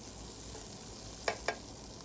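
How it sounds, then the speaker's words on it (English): Two tablespoons of butter with a tablespoon of minced garlic fry in a pan, a soft, even sizzle held low throughout, broken by two quick light clicks near the end. "Just add 2 tablespoons of butter in the pan, and then a tablespoon of minced garlic,"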